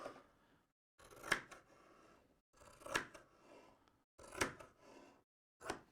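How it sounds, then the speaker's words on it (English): Sharp scissors slice through quilting cotton fabric in four separate cuts, each a crisp snipping swish followed by a short pause, close and fairly quiet. "Oh, they slice through that fabric, look."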